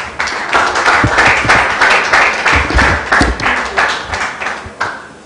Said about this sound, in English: Please, can you give the startups another round of applause?